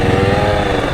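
Honda Navi motorcycle fitted with an S23 aftermarket exhaust, revving up close with a steady, loud, rasping engine drone throughout the short stretch.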